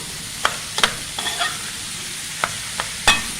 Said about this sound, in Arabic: هنزل اللحمه المفرومه على البصل كده، اسيبها مع البصل لغايه ما تغير لونها